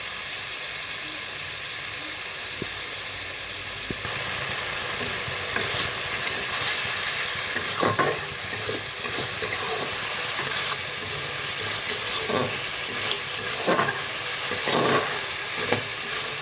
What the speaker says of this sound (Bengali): দেখো কষতে কত সুন্দর